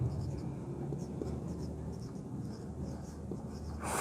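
Chalk or marker scratches and taps across a board as an 11th class mathematical induction problem is worked out, with a teacher's voice talking quietly underneath the steady writing strokes.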